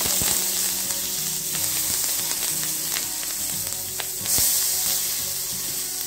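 Mustard seeds, cumin, turmeric and curry leaves sizzle in hot oil for kadhi, making a loud steady hiss with sharp pops and crackles, close by and with no one talking.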